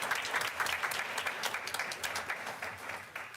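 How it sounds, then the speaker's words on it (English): Audience applause in a board meeting room, steady dense clapping from a modest crowd that holds at an even level throughout, with no talking over it. "Can we give her a big round of applause?"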